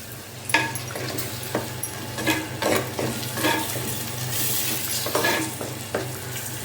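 Chili powder and garam masala fry in a pan for a mutton curry, with a steady sizzle and repeated scraping strokes of a spoon stirring at an irregular rhythm, close and fairly loud.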